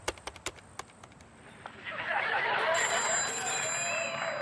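A telephone rings in a house late at night, bright repeated trills building over a few seconds amid some tapping and background noise.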